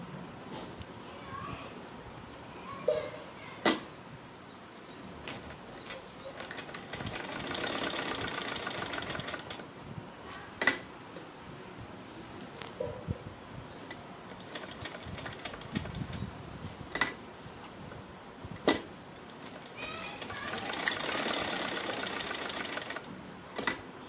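A sewing machine stitches a Punjabi suit with a steady mechanical whir that swells and fades in bursts, punctuated by sharp clicks, with a voice speaking at times.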